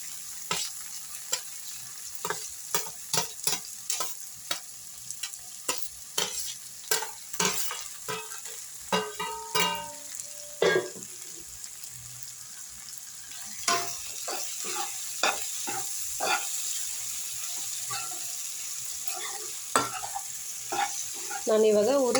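Okra being stirred and fried in a pan with already-fried tomato and onion, a steady sizzle under repeated sharp spatula scrapes and clinks against the pan, close and continuous.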